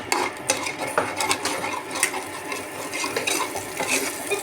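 A spoon scrapes and clinks repeatedly against a pan or kadai while stirring a frying tempering for bendakaya (okra) pachadi, with a soft sizzle underneath and irregular sharp metal knocks.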